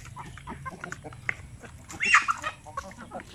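Native chickens on a farm, several birds clucking and calling intermittently near the listener, with a louder burst of squawking partway through over faint outdoor background.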